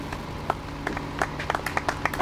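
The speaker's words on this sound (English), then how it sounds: "That's a robust applause" A small audience at a civic gathering on Main Street, with the vice mayor being introduced, gives thin, scattered applause. Separate hand claps pop out irregularly over a low background hum rather than merging into a full ovation.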